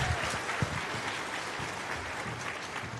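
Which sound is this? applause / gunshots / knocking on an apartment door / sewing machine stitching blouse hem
applause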